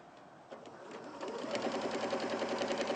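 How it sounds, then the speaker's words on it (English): A sewing machine stitching a reinforcing line of white topstitching, starting with a few slow stitches and then running at a fast, steady rattling rhythm close by, with no speech. "I'm just going to stitch a line of stitching"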